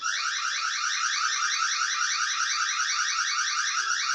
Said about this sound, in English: You can trigger the alarm, manual alarm. It will sound the 30 seconds alarm.